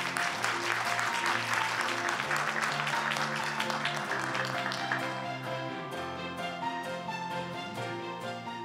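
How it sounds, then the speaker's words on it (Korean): Sustained applause from a large audience at a public broadcasting conference, dense steady clapping that continues throughout, with soft background music beneath it. "여러분 큰 박수로 맞아주시기 바랍니다"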